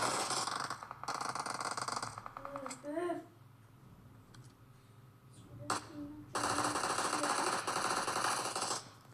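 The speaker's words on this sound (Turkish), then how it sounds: "M4 sesi var." Bursts of rapid automatic M4 rifle gunfire in a game, two long volleys separated by quieter moments, with a voice talking in between.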